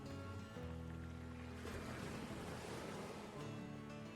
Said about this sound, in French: la houle a quelque chose de fascinant et d'effrayant